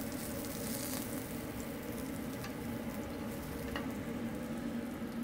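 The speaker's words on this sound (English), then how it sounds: "So we just wanna brown it all the way around." Steak cordon bleu browning in a hot pan, giving a steady, quiet sizzle and crackle of frying with faint pops, with no voice over it.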